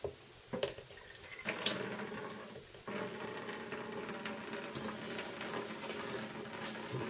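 Water rushes out after a valve is opened during a water pump test, starting with a few clunks, then settling into a steady, full, continuous flow with no talking.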